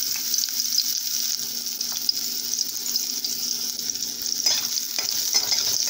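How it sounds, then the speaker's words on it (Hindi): Soaked soya chunks fry in hot oil with a steady, dense sizzle throughout, broken by a few louder spatters and brief stirring scrapes, close and alone without any voices. "तेल तो हमारा गर्म हो चुका था इसलिए सारी बड़ी मैं इसमें ऐड कर रही हूँ फ्रेंड्स।"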